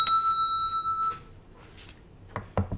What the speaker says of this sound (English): I've got a special bell here from Liam